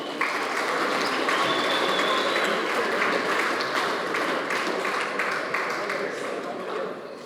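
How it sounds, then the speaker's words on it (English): Crowd applause at a speedway motorcycle podium ceremony for the Ray Tarrant Memorial, a dense, continuous clapping wash that holds steady throughout and fades slightly at the end. "Round of applause for the boys"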